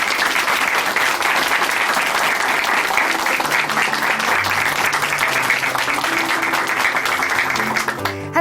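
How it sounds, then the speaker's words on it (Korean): A church congregation at Chuncheon Hanmaum Church applauds steadily and loudly for about eight seconds, the clapping dense and unbroken, with faint music starting to rise near the end. "다시 한번 큰 박수 보내드리겠습니다"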